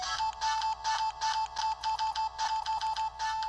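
A Yobikomi-kun Mini supermarket promo speaker plays its bright, chiming jingle, a steady electronic melody of repeated pulsing notes over a constant high tone, fairly loud and close with no talking.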